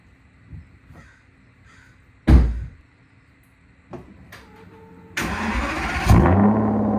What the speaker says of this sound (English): then a nice cold start